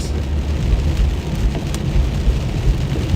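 Heavy rain pours in a thunderstorm over the Midwest during a tornado threat, a loud, constant wash with low rumbling underneath and no voices.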